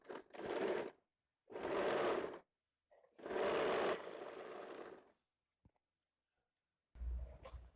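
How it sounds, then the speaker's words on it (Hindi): A sewing machine stitches a blouse in three bursts of whirring, rattling running, each a second or more long, separated by pauses, followed by faint handling clicks and a low thump at the end. "ऐसे दोबारा से और एक सिलाई देना है।"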